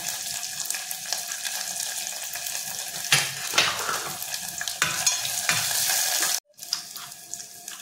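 Cumin, crushed garlic and curry leaves sizzle steadily in hot oil for masoor dal, a bright continuous crackle with a burst of louder spitting midway and a brief cutout near the end, with no talk.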